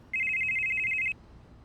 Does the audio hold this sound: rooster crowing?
no